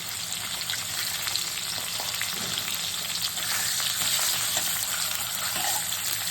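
Pond fish frying in hot oil, a dense continuous sizzle and crackle that holds steady at close range throughout.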